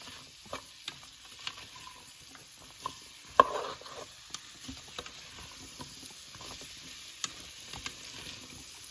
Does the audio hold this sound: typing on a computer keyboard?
no